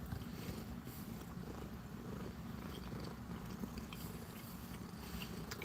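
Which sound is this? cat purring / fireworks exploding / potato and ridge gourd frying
cat purring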